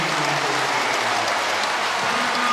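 A basketball arena crowd at a FIBA Women's EuroBasket game between Serbia and Russia bursts into loud, dense applause and cheering right after a three-point shot, sustained throughout.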